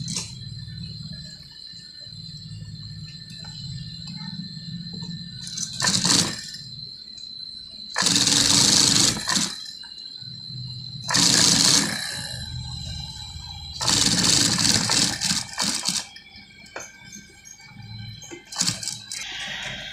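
A sewing machine stitches a gents' kurta through buckram layers in several short whirring runs, loud and close, separated by quieter pauses with a faint steady hum.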